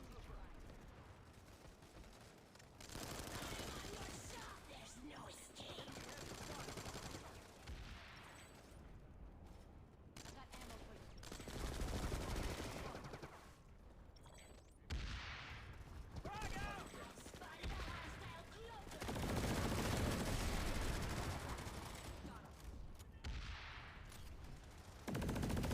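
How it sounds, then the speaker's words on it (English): Sustained bursts of video game gunfire, fusillades and machine-gun rattle swelling and dropping in loud waves with short gaps between, heard fairly close amid the chaos of combat. "Who is shooting me?"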